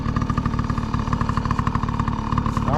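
A Yamaha PW50 dirt bike runs laps with a steady, buzzy two-stroke engine drone that holds close and loud throughout, with small pulses in the revs and no voices over it.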